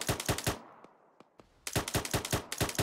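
Bursts of automatic gunfire in the military shooter ArmA 3, rapid loud shots at the start, a quiet gap with a few isolated distant cracks, then another sustained close burst.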